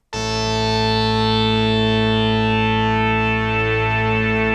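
A loud, sustained Arturia PolyBrute synthesizer chord in octaves, without voice modeling, drones steadily with a buzzy, bright tone, holding at an even level for several seconds.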